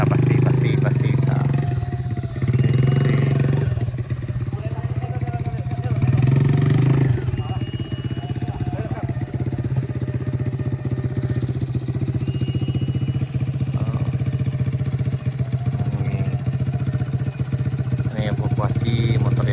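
A motorcycle engine labors up a steep hill damaged by a landslide at Bukit Gandum, a loud, close, continuous drone that surges and revs with clattering, while people talk over it throughout.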